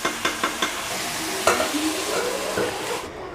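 Chicken curry being stirred in a pot with masala, a few quick rhythmic spatula taps against metal over a steady gentle sizzle, close and moderately loud, cutting off abruptly at the end without any talk.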